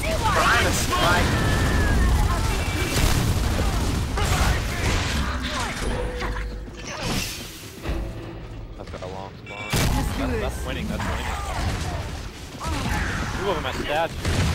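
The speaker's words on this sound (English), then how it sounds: "Mir has nades on the target." Gears of War 3 ranked King of the Hill match on Raven Down: grenade blasts and heavy gunfire, dense and loud throughout, with a brief lull midway, under players' talk.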